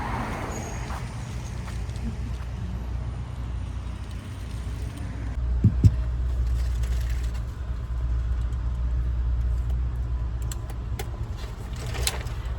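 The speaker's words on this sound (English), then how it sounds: "Got a lot of traffic, you guys." Steady road traffic rumbles around a car on a delivery drive, a low continuous drone with passing vehicles and a few faint clicks inside the cabin, no talk.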